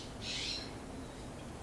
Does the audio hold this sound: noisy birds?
yes